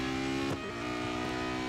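Race car engine in the Real Racing 3 video game, a steady droning whine at a constant pitch with a brief dip and pitch shift midway, no voices.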